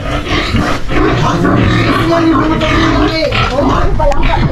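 Pigs and piglets on a farm grunting and squealing loudly and close, a continuous rough chorus of overlapping animal noises.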